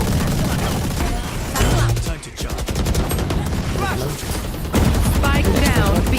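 Bursts of rapid automatic gunfire from sprayed weapons in a Valorant pro match, loud and dense with overlapping shots and game effects, over a busy mix of broadcast sound.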